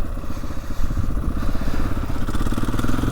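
A KTM 400 EXC dirt bike rides a wet New Year's Eve trail. Its engine drones loud and close without a break, with rough, uneven rumbling throughout.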